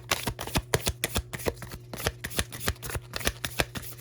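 Tarot cards being shuffled by hand at close range, a steady run of soft riffling slaps and flutters repeating in an even rhythm over a faint background hum, with no talking.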